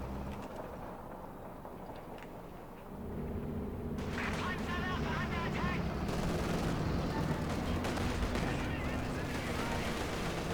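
Gunfire rattles through a video game battle as a T-34-85 opens up on grenadiers: dense, continuous bursts and booms at a distance that thicken after a few seconds, with a commentator talking over them.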